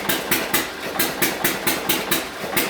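Hit and miss engine running on a dyno, giving a steady rhythmic chuffing beat of about five firing pulses per second over constant mechanical noise, close and fairly loud with no talking.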